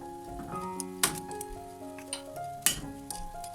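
Pork knuckle and vegetables grilling over low heat give a soft, steady sizzle close by, with scattered clinks and two sharper metallic clatters of tongs or pans, and no talk.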